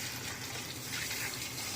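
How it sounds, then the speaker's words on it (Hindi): Hot boiled water poured from a vessel into a pot of chicken and potatoes, a steady close splashing gush that runs unbroken and evenly loud from start to finish. "अब हम इसमें थोड़ा सा गर्म पानी ऐड करेंगे और आलू और चिकन को गलने के लिए देंगे"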